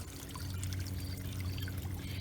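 Water from a rain barrel pouring into a backyard garden pond with fish: a steady, continuous splashing pour running the whole time, heard alone and fairly close.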